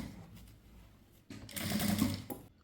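A sewing machine runs a brief, close burst of stitching along a blouse lining, starting after a soft pause and stopping just before the clip ends.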